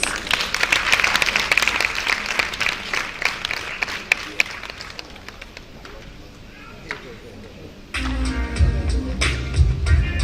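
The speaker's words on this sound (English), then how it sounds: "A round of applause, please" Audience applause for a speaker at a youth policy dialogue at a technical university in Ghana, steady clapping for several seconds that fades, then a voice begins speaking over room noise.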